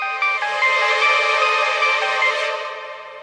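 A phone ringtone plays a bright electronic melody, steady and fairly loud, fading slightly toward the end with no voices.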